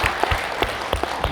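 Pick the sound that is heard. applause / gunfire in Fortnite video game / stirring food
applause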